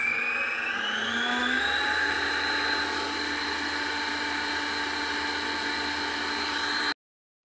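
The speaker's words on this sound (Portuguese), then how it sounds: "Velocidade máxima da batedeira, gente." An electric stand mixer whips three egg whites at maximum speed, a loud, steady high-pitched whine whose pitch rises slightly at first, then holds constant before cutting off abruptly near the end.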